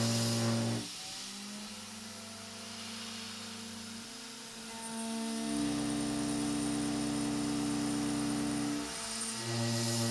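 A desktop gantry router spindle cuts steel, a steady loud machine whine with strong tonal hums that shift pitch partway through as the spindle speed rises, holding continuously with no voices.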